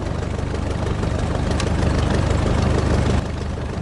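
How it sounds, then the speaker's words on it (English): A de Havilland DH-83 Fox Moth's Gipsy Major engine idles just after start, a loud, close, steady low rumble with a faint rhythmic knock running unbroken throughout, with no voices. "The engine manual says to idle the Gypsy after start for 4 minutes"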